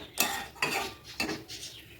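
A spoon scrapes and stirs milk in a pan as it thickens for carrot laddu, with about four rhythmic, close metallic scraping strokes.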